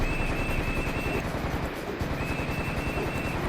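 Rapid bursts of automatic gunfire from Serious Sam: The First Encounter (Classic) rattle continuously and loudly, with a brief lull midway before the shooting resumes; no one speaks.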